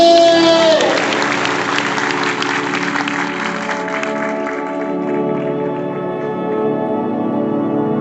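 An audience at an indoor business seminar breaks into loud applause that fades over a few seconds, while sustained musical tones ring on underneath.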